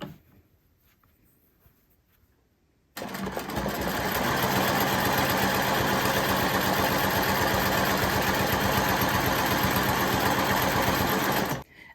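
A sewing machine quilting fabric starts after a quiet moment and runs in one steady, fast, continuous whir with a mechanical rattle, close up, then stops abruptly near the end.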